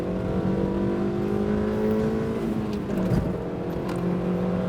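A 2008 Suzuki Swift Sport with a lightened flywheel accelerates on an open road, its engine drone rising in pitch, easing briefly around a gear change, then pulling again, loud and steady throughout with no talking.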